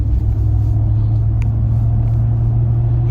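Ram TRX pickup truck engine rumbling steadily at idle, a deep, loud, continuous low growl held close by for the whole stretch with no talking.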